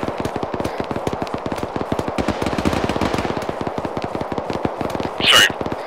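Sustained automatic machine-gun fire from a bunker during an ArmA 3 SOG battle op, a dense rapid rattle of shots running the whole stretch and ending in a louder burst near the close.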